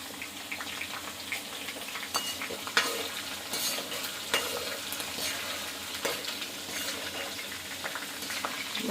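Green chillies frying in a pan for a crab curry, a continuous bright sizzle and crackle with occasional stirring scrapes, steady and close throughout.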